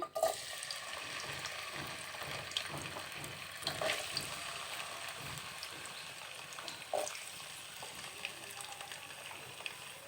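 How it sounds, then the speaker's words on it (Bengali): Potatoes fry in hot oil with a soft, constant sizzle and occasional stirring clinks and scrapes, heard close up with no talking. "তেল গরম হয়ে গেছে আলু ভেজে নিব"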